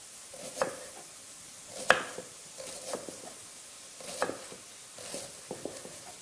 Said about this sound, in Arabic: هاني على البصله اللي راها تقلى